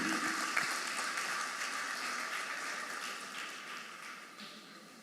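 Applause for a sign-language presenter and team at a church gathering, a dense crowd clapping that starts full and gradually fades over several seconds, with no voices heard.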